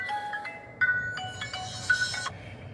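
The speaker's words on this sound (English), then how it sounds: "Why is it ringing? Oh, that's your phone." A mobile phone rings with a repeating electronic melody in short bursts, moderately faint over a low background rumble, with no one talking.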